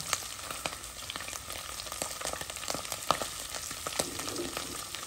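Herring rougail frying in a pan, a steady close sizzle with crackling pops and occasional stirring clicks, no voices.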